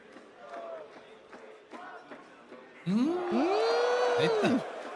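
Crowd at a Counter-Strike Major grand final in Paris, a murmuring arena under talk that swells into a loud, sustained roar of cheering with whistles and chanting before easing slightly.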